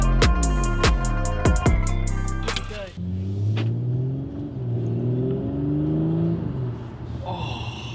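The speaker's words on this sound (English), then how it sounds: "Yeah, I love how it spools up." An Audi S4 B9 with a Unitronic intake revs hard through several rising bursts, then its turbo spools with a whooshing, whistling build under the engine drone as the car pulls away, loud and close.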